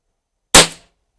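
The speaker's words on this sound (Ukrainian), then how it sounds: "І останній дев'ятий постріл." A single sharp shot from a Taurus 409 pistol cracks out of silence during a shooting test, loud and close, with a short fading tail.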